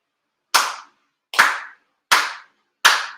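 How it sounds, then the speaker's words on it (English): Four evenly spaced, sharp, ringing claps sound one after another at a memorial ceremony, each fading quickly into a quiet, reverberant room. "Chido Haide, 4 sincere claps."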